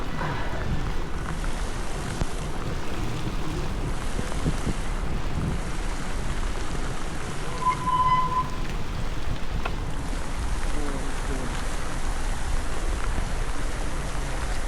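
Rain falls on a wet evening in Marmaris, a steady broadband hiss mixed with wind and distant water wash, faint and constant with no one speaking.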